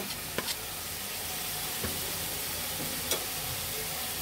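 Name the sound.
stirring coriander powder and green chillies in frying pan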